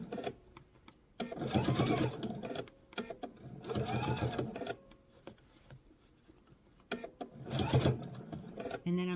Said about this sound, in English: And I'm going to sew around till I get back to the beginning.